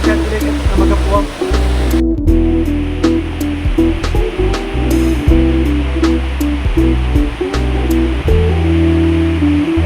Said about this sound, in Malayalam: അടുത്തുള്ള വെള്ളച്ചാട്ടത്തിലേക്ക് നമുക്ക് പോകാം.